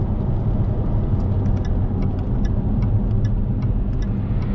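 A Jaguar F-Type R-Dynamic engine, tuned for a howling sound, drones and howls steadily at close range, a dense, constant roar with faint ticking sounds on top.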